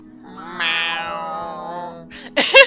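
A cat lets out one long, drawn-out meow, close and clear, followed by a brief rustle and a sharp noise at the end.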